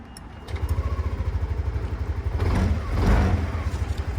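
A Yamaha NMAX scooter, 2020-on model, starts up and settles into a close, loud, pulsing idle that swells slightly after a couple of seconds.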